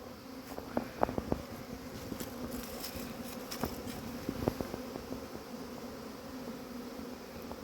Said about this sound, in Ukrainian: Так, приємно на душі, бджола вилетіла, перезимували успішно.